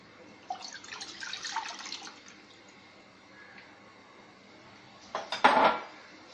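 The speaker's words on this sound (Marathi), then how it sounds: "कढईमध्ये दूध घ्यायचं, अर्धा लिटर दूध घेतलंय मी।" Half a litre of milk goes into a kadhai in a home kitchen for rasmalai: a short, soft liquid pour, then quiet, then a sharp clatter of metal utensils near the end.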